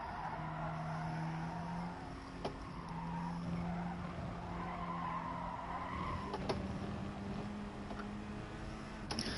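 A Volkswagen Scirocco in Gran Turismo Sport pulls steadily under throttle in third gear, its engine droning at a smooth, sustained pitch with faint tyre scrub and a few sharp clicks over the top.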